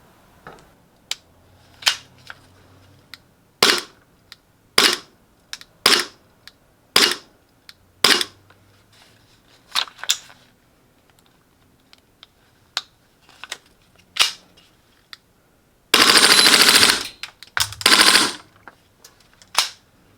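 A Krytac SilencerCo Maxim 9 gas blowback airsoft pistol fires in full auto: sharp single cracks and short bursts in irregular rhythm, ending with two loud, dense rapid-fire strings, close and clear with no talk.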